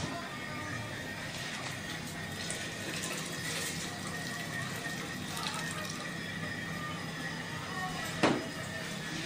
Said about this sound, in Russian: Нам надо добавить воды.